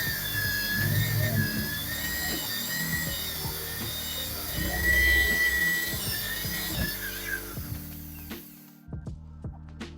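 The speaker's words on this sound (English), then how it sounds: "hold the dust collector and just start drilling" A power drill with a dust collector held over it bores holes into a wooden surface for mounting a TV, a continuous whining grind with rubbing and scraping that stops abruptly near the end.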